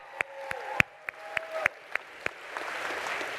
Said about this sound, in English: All right, one more round of applause for them